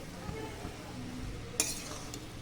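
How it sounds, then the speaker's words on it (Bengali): Cabbage ghonto made with hilsa fish head is stirred in a pan, producing scraping strokes over a low sizzle, with a sharp metallic clink of spatula against the pan midway. "খুব ভালো করে নেড়ে দেব বাঁধাকপির ঘন্ট আমি এইভাবেই বানিয়েছি"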